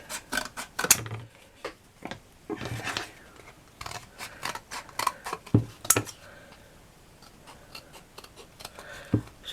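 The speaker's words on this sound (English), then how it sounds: "So I now need my big scissors. These are the ones I use for cutting my chipboard." Big scissors snip through chipboard in a craft setting: a close series of irregular crisp cuts and clicks, some sharper than others, with handling noise between strokes.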